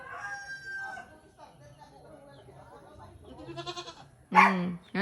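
Goat bleats and chicken clucking mixed with a person's voice, ending in a loud, close burst of squawking fowl.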